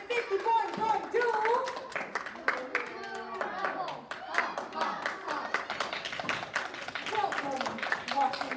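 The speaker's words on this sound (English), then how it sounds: "Let's give her a big round of applause" Audience clapping at a school walkthrough event, scattered hand claps running throughout beneath a speaking voice, moderately loud and close.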